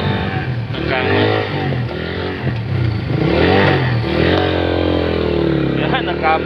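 A motorcycle engine runs close by, its pitch rising and falling as it revs, with a voice talking over it now and then.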